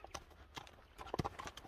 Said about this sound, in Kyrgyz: Кыргыз жылкысы экен.